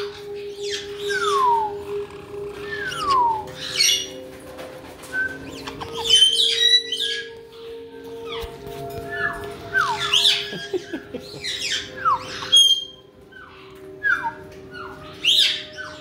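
Several pet birds, including a parakeet-type bird, squawk and chirp inside a cage, with sharp rising and falling calls repeating throughout, fairly close and lively, with occasional wing flutters and a steady hum underneath.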